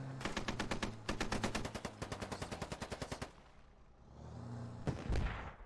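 Rapid automatic gunfire crackles in the video game SquadOps, with two quick bursts of evenly spaced shots followed by a pause and a couple of louder single blasts.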